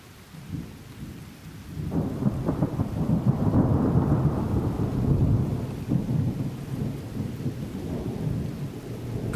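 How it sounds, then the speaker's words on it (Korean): A thunderstorm used as an audiobook effect: heavy rain hisses steadily as thunder rumbles in, swelling into a long, loud roll before easing back under the downpour. "갑자기 맑은 하늘에 먹구름이 몰려들더니 비가 내리기 시작했다."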